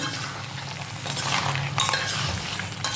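A spoon stirs thick crab pepper masala in a pan as the oil separates, making close wet scraping and light metallic clinks over a continuous sizzle.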